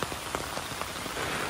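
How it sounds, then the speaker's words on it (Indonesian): Heavy rain pours steadily on a road, a dense continuous hiss with scattered close drop impacts, loud and unbroken over a late afternoon; no talk is heard. "sekarang kondisi di sore hari sana hujan lebat dan aliran airnya cukup deras nih"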